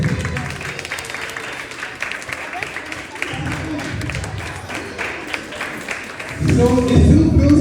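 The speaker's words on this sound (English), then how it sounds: "Give yourself a round of applause." Primary school students at a Montessori school clap in a steady burst of applause that swells louder toward the end, with some voices mixed in.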